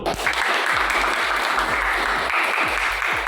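An audience applauds a pro debate team, steady close clapping that fills the whole stretch at an even, dense level.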